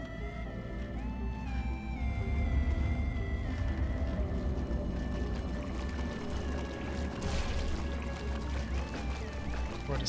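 Water pouring in the video game Portal Stories: Mel makes a steady, full rushing wash beneath low sustained ambient tones, continuous and fairly close throughout.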